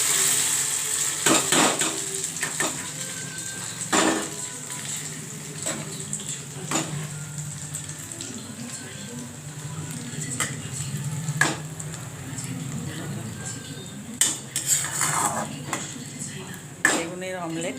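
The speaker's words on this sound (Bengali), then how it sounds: "বেগুনের অমলেটটা আমি এবার দিয়ে দিচ্ছি।" Brinjal and egg omelette fries in mustard oil in a pan, giving a soft steady sizzle close by, with occasional clinks and scrapes of a utensil against the pan and a person talking over it.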